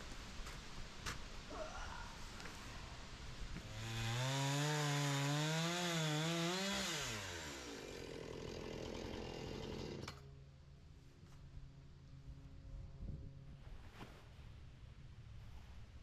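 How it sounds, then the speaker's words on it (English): A big chainsaw cuts into a large log from a reclaimed tree. The engine surges into a loud, wavering revving burst mid-way, then drops back to a lower idle and cutting noise. "I need to use my big chainsaw"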